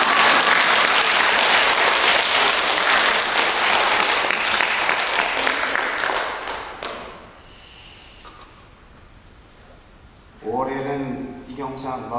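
Audience applause at a church anniversary lecture fills the room densely and loudly for about seven seconds, then fades away, leaving quiet before a voice starts talking.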